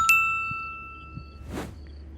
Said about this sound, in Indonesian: Siapa nih SMS jam segini?